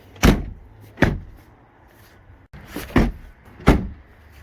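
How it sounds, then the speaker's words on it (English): Four solid car door shuts on a Rover 25 iXL, each a sharp, close thud with a short decay, spaced about a second apart in two pairs. "Each door is a good shut sound."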